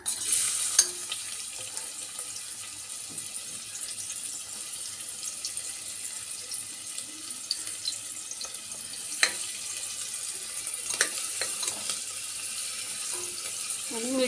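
Onion sautéing in oil inside a pressure cooker over a gas flame, a soft continuous sizzle and hiss close by with occasional faint stirring clicks, steady and quiet throughout with no talk.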